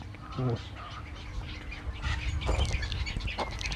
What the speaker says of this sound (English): there is a range of birds that's like coming here.